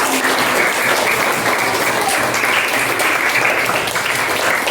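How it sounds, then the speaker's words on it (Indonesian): A classroom of seventh-grade students applauds after a group presentation, giving a loud, steady burst of many hands clapping up close, sustained evenly for several seconds. "sekarang kita berikan aplaus ya"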